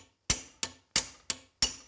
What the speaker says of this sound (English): Angle the cut like I did when you hammer on it, it'll actually push the race off as you chisel